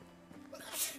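A person sneezes once during a Medieval Dynasty gameplay session, a brief breathy burst rising to a sharp hissing release, near the microphone against faint background sound.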